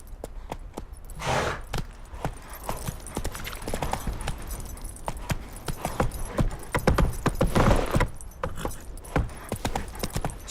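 Roach, Geralt's horse in The Witcher 3, gallops with quick rhythmic clip-clopping hooves and jangling tack, close and steady for the whole stretch.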